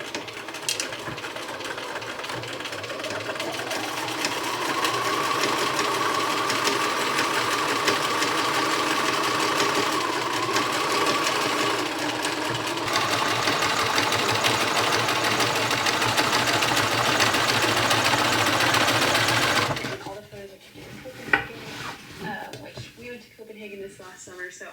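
A sewing machine runs steadily for about twenty seconds, stitching a diagonal line across a quilted blanket, then stops and leaves quieter room sounds behind.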